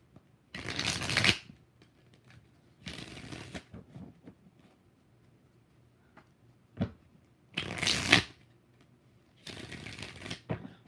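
Tarot cards being shuffled by hand, four separate bursts of riffling a second or so long, separated by quiet gaps, close up.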